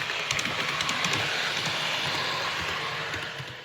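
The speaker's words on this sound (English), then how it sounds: "you can see I've got trains running" Model railway trains run on a layout with a scratch-built viaduct, making a steady low rumble and faint rhythmic clicking of wheels on track that fades slightly toward the end.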